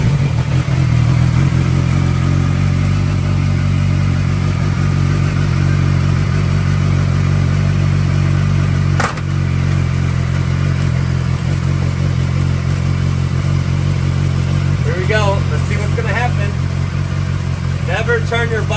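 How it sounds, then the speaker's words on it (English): A motorcycle engine idles with a steady, loud drone and mechanical clatter while its chain is being cleaned, with brief sharp noises and a few startled voices near the end. "Never turn your bike on while cleaning the chain."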